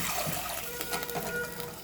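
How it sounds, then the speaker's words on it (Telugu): Water poured into rice for a khichdi in a home kitchen, a short soft trickling and splashing that runs steadily for under two seconds, close and fairly quiet. "ఇప్పుడు బియ్యము నీళ్లు పోసుకుందామమ్మా."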